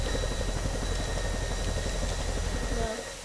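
A propeller aircraft engine in the video game Garry's Mod drones steadily and loudly for about three seconds, then drops away near the end, with faint voices underneath.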